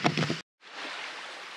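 Water pours steadily at Morans Falls, a broad, loud rushing wash close by. A brief louder burst of noise ends just before it.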